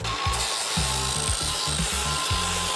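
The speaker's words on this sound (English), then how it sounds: "Because this blade isn't bad, I'm going to use the sanding disc. This one here is a 60 grit," 60 grit sanding disc on a power tool grinding a lawn mower blade, a loud, steady abrasive roar with uneven chattering pulses as the disc bites the steel, close and continuous with no talking.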